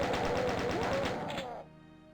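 Rapid chaingunner machine-gun fire in the Doom game Eviternity II rattles in a fast continuous burst for about a second and a half, then cuts off into quiet.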